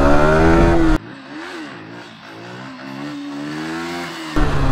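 A Yamaha R15 motorcycle engine revs hard in first gear during wheelie practice, climbing and holding against the rev limiter in a loud, near, wavering drone, framed by louder bursts at the start and end.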